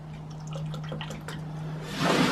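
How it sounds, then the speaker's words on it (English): Water drips and trickles into a soil test jar in a garden, a few scattered drops at first, then a louder splashing pour near the end, with a steady low hum underneath. "I'll just put some water in there."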